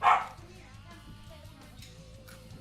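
A pet dog gives a single sharp bark at the start, close and loud, followed by quieter background game music with no further barking.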